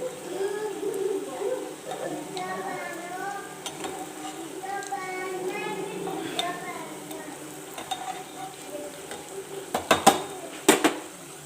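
Jalebi fries in hot oil while pieces are lifted out and dipped in syrup, a soft bubbling sizzle under clinking utensils and sharp metallic taps near the end.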